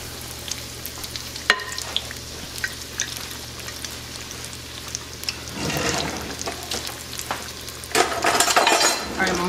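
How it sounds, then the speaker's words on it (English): A stuffed chile relleno pepper goes into a pan of hot oil, giving a soft steady sizzle that swells into louder bubbling frying bursts near the end. "I'm going to transfer it over to the plate real quick, okay? I mean to the pan."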